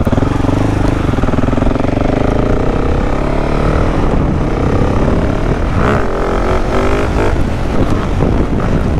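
A 2021 KTM 690 Enduro R motorcycle revs hard for a wheelie at a campground with traction control off, its engine roaring loud and close with rising and falling pitch throughout.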